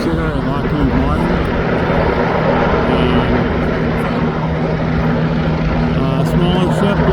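A helicopter hovers right above a small littoral combat ship during a Fleet Week parade of ships on the Hudson River, its continuous rotor and engine drone loud and steady throughout.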